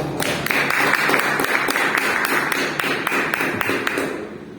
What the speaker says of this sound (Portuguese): E as palmas do Senhor Jesus.